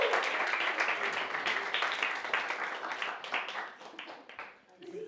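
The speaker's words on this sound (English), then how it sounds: "Everyone, round of applause for Matt." A birthday party crowd applauds loudly at a magic show, dense clapping sustained for several seconds before tapering off near the end.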